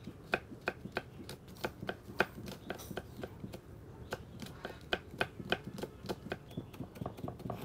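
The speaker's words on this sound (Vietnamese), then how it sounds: "Bây giờ tôi thái đến ớt." Chili peppers chopped with a knife on a board in a home kitchen, a fast, steady run of crisp close taps continuing throughout without any talking.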